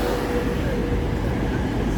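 A British Rail Class 444 passenger train at Basingstoke station fills the scene with a steady, loud low rumble and broad rolling noise that holds throughout.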